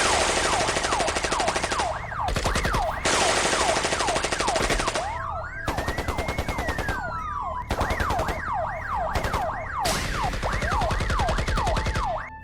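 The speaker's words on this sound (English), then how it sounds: "the criminals began exchanging gunfire with the SWAT team" Gunfire from a SWAT shootout with criminals in the Roblox game Brookhaven RP, heard as dense continuous rapid-fire shots under wailing police sirens, loud and unbroken throughout with brief gaps.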